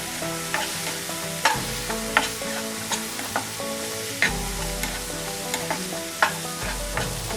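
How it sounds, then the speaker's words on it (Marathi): Wet cashew masala curry being sautéed and stirred in a pan over a medium flame, with a steady soft sizzle and repeated scraping clicks of the spoon at a close, moderate level. "आता गॅसची फ्लेम आपण मीडियमवर करतोय आणि हे सगळं छान असं परतून घ्यायचंय."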